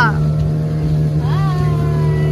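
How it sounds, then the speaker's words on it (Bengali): A tourist motorboat off Palolem Beach in Goa drones steadily with a loud, close engine hum under cheerful talk, the pitch bending upward midway as it speeds along. "আমরা এখন পালোলেম বিচ থেকে বোট রাইডে উঠেছি।"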